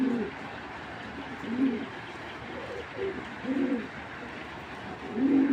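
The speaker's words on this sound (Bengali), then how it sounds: "অরিজিনাল বিআর পেপসি ক্লাবের কবুতর" Club racing pigeons coo close by in repeated low rolling phrases, about every two seconds, over a quiet steady background with no talking.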